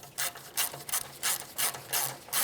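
Screws being driven back into a grille emblem on a 1996-2002 Toyota 4Runner, giving six evenly spaced rasping, ratchet-like turns about every 0.4 seconds, close and fairly quiet with no talk.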